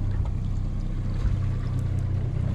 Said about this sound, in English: We're gonna kill the motor.